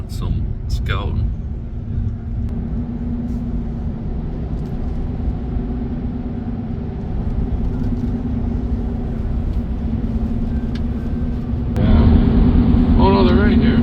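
A pickup truck drives along while out scouting at a Wisconsin turkey camp, its engine and road noise a steady low rumble throughout, growing slightly louder near the end as voices talk in the cab.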